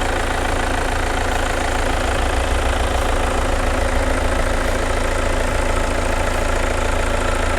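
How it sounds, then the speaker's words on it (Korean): A 2.0-litre diesel engine of a Hyundai Santa Fe The Prime SUV idles with a steady low rumble and an even knocking beat, loud and close, with no talking. "엔진 소리 일정합니다"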